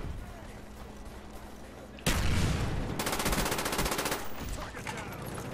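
AK-74U with rapid fire in Black Ops multiplayer, a sudden loud burst of fast automatic gunfire erupting after a quieter stretch of game ambience, followed by sustained rapid shots.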